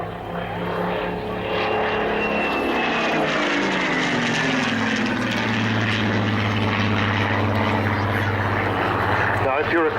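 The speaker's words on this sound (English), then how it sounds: "If you're a connoisseur of Rolls-Royce engines, you'll detect that this has a somewhat different note to the Merlin engines of the Lancaster." A Battle of Britain Memorial Flight aircraft with a Rolls-Royce Griffon engine flies nearby, its loud, steady propeller drone changing pitch as it passes, with talk heard over the engine.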